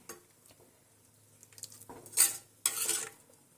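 Quiet stirring of egg biryani in a pressure cooker pot, a few soft scrapes and clinks building to two louder bursts of scraping and sizzle near the end.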